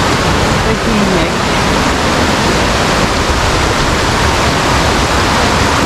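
Tagbibinta Falls in Davao de Oro roars as a loud, continuous broadband rush of falling water, steady and close, filling the whole scene without a break.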